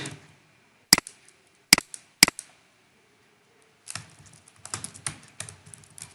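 Quiz answers being typed on a computer keyboard into an online form: three isolated, sharp keystrokes, a pause, then a denser run of quick clicks. The typing is close and clear, with no talk.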